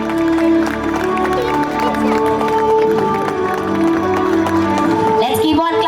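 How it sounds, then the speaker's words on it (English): Parents at a school fest and carnival clap for prize-winning children, steady dense applause with scattered cheers running throughout, while voices and speech carry over the clapping. "Let's keep on clapping for them"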